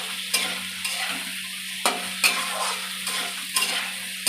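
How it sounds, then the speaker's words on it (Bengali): A spatula stirs papad curry frying in a pan with a little turmeric, scraping sharply every half second or so over a steady close sizzle, with no talking. "এবার একটু নেড়ে নিই।"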